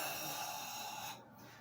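A single deep breath during a Pai Lum kung fu monks exercise, an airy inhale-exhale close to the mic that trails off after about a second.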